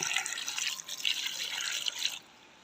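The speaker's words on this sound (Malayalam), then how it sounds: "നന്നായിട്ട് വെള്ളം ഒഴിച്ചിട്ട് കഴുകുക" Water is poured and splashes continuously over chicken feet being washed in a sink, close by, for about two seconds before stopping.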